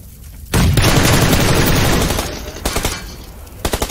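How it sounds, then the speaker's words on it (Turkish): A grenade blast in PUBG Lite erupts into a loud, sustained roar, followed by rapid bursts of close automatic gunfire in quick rhythmic volleys. "Güzel gitti bomba."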